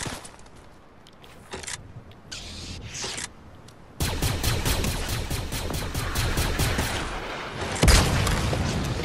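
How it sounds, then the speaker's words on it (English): Rocket launcher explosions in a Star Wars video game: a loud sustained barrage of blasts and rapid bursts of fire, with a few separate booms before it and a heavy thump near the end. "Oh, they have a rocket launcher."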